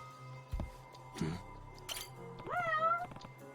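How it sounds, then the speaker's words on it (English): Cat meowing in the video game Judgment, a rising drawn-out meow near the end after a few soft clinks and thumps, fairly close and clear with no talk over it. "I hear the cat now."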